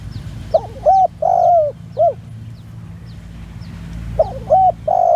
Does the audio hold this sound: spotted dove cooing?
yes